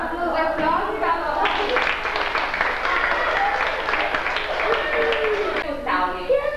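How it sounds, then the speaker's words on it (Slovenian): Schoolchildren in a third-grade classroom clap together in a sustained, dense round of applause for several seconds, with a voice speaking briefly at the start and end. "Dobar je, Pita, zaploskamo."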